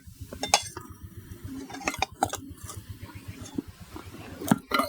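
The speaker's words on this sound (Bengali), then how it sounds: "এখন দেখুন আমি আস্তে আস্তে করে ঢাকাটা খুলবো।" Metal lid lifted off a hot cooking pot of steamed prawns, a series of scattered clinks, scrapes and light metallic knocks, close and fairly quiet.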